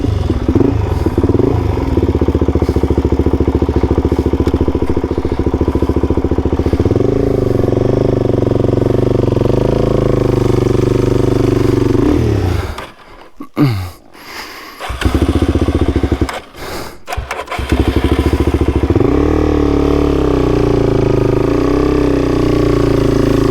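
A motorcycle on a solo desert trip being walked up a sandy dune, its engine loud and close, revving and labouring in surges with a few sudden cut-outs and sputters, then picking up again.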